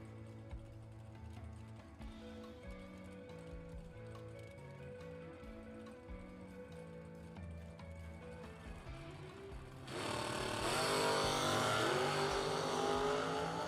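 A Camaro and a Pontiac Firebird line up at a Jegs Labor Day bracket drag race. Steady engine noise and background sound give way to a loud, broad roar of engines launching that holds to the end.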